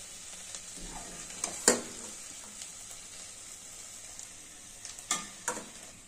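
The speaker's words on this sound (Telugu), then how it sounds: "ఈ పొడి వేసి బాగా వేయించుకోవాలండి" Spice powder fries in a pan while cooking a milk-based capsicum curry, giving a low continuous sizzle broken by a few sharp clinks and scrapes as it is stirred.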